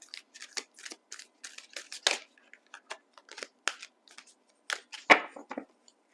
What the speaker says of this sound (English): I'm going to do a little shuffling.